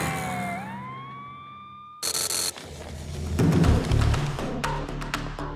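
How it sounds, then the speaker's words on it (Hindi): An ambulance siren wails with a rising, sliding tone, then cuts off into loud traffic noise, engine rumble and clattering bursts from a busy road scene. "पहले एम्बुलेंस को रास्ता दो।"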